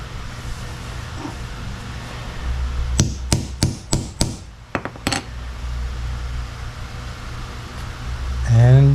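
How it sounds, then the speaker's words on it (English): A hammer strikes a hole-cutting punch tool about eight times in a quick, uneven series of sharp, close knocks, set against a low steady background during repairs on an '85 Squarebody truck. "This is the side that you hit with the hammer"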